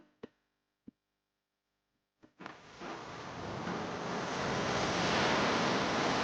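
Sea waves wash onto the beach at Ganpatipule on the Konkan coast, a broad steady roar of surf that swells in and grows louder, preceded by a few brief knocks and near-silence.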